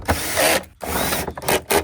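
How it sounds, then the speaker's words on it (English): A torque-limited drill drives screws into plastic, whirring in loud bursts that stop abruptly, with brief gaps between short runs of the motor. "I've got my drill limited to the amount of torque so that I don't strip them out."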